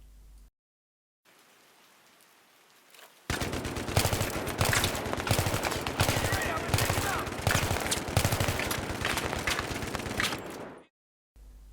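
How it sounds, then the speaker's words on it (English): Sustained LMG machine-gun suppressive fire in Battlefield 3 pours out as a long, loud, rapid burst of shots with the whine of incoming rounds, after a near-silent lead-in that ends abruptly. "this time I'm going to be suppressed by a support guy with an LMG"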